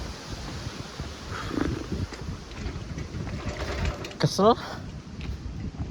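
Strong wind roars steadily across the microphone outdoors in Japan near a construction site, gusty and rumbling throughout, while someone speaks briefly over it.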